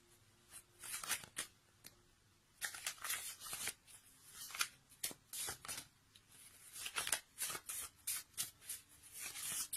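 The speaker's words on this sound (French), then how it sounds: "on va regarder avec les cartes l'oracle des amoureux" Oracle cards are shuffled by hand in quick riffling bursts with short pauses between, close and crisp, with no talking.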